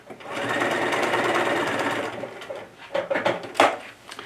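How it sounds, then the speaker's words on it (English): A sewing machine stitches the gusset lining sections of a Laura Ashley bag together with a steady, close whirring run for about two seconds, then stops and gives a few short bursts and clunks. "stitch the gusset lining sections together at the notched end"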